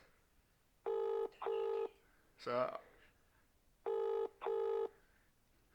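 A telephone call plays out with two paired ringback tones, then a burst of dialing tones, then another two rings. Each tone is loud and sharp against a quiet background, and one brief spoken word comes at the start.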